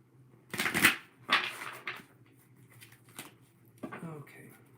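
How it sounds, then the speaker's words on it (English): Tarot cards are shuffled by hand in a few quick riffling bursts with pauses between them, close and fairly soft, with a little talk around them. "Let me shuffle these a couple more times."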